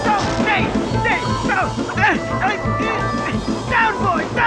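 A large Doberman barks repeatedly in deep, loud bursts, with excited human voices talking and shouting over the barking.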